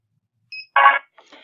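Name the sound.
barcode scanner error beep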